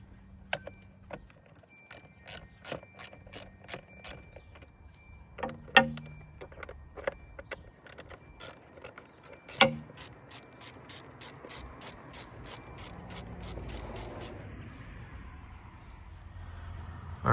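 A ratchet clicks in quick bursts of light ticks while 10mm bolts are backed out of a panel in the engine bay of an Alfa Romeo Stelvio 2.0, with a couple of sharper knocks and metallic rattles in a quiet space.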